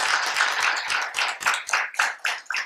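An audience applauds an organising team at a psychology session, with a run of uneven, rhythmic clapping bursts that rise and fall over a couple of seconds.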